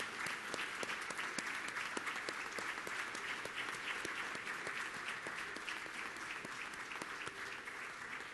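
Anniversary event audience gives a standing ovation, sustained crowded clapping heard at a distance and fairly soft, even and continuous throughout.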